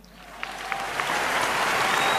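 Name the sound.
audience applause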